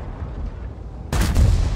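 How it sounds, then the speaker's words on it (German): A heavy tank cannon fires in World of Tanks, a single sudden booming shot that breaks a low engine drone and is followed by a short rumbling tail. "der Schuss war zu spät gesetzt"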